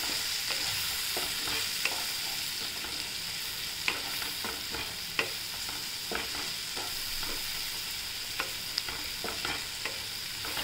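Besan is stirred and roasted in hot oil in a pan for a garlicky palak bhaji. A steady frying sizzle runs throughout, and scraping clicks from the spoon break in at irregular moments, close and moderately loud.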